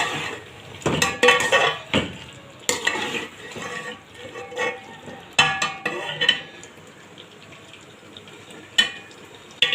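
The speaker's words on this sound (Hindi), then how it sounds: "अभी मैं इसको अच्छे से मिक्स करूँगी।" A chicken and capsicum mixture is stirred in a pot at close range, with irregular scraping and clattering knocks of a utensil against the metal over a soft sizzle, with no talking.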